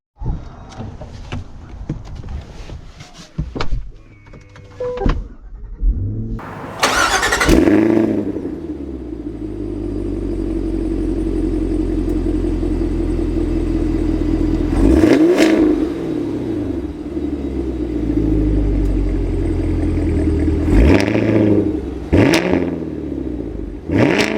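A supercharged V8 in a 2025 Cadillac Escalade V SUV revs loudly and pulls away, with several sharp rising surges and a steady deep roar between them, close and with no talk over it.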